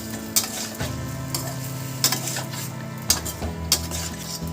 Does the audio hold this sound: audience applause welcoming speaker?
no